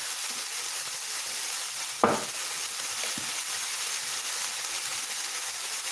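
Green peas with soy sauce stir-frying in a pan, giving a steady, close sizzling hiss, with a couple of brief scraping stirs and a sharp clack around the two-second mark.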